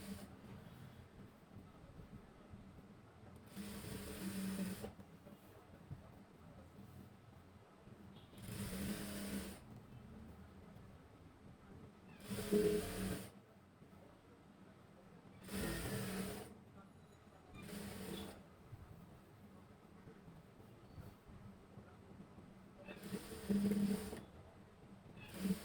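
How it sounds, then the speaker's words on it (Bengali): A sewing machine stitches a petticoat seam at a half-inch allowance in short, repeated bursts of whirring, each lasting a second or so between quieter pauses, with a low background hum throughout. "এবার সেলাই দিচ্ছি।"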